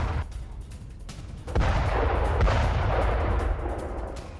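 A heavy Israeli airstrike explosion on a Hezbollah position in Lebanon booms after a muffled start, followed by a sustained loud rumble that slowly fades out.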